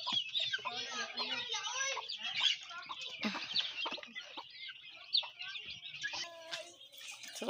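Several chickens cluck and cheep close by in a yard where a mother hen tends her chicks, with busy overlapping calls and higher peeps running steadily throughout.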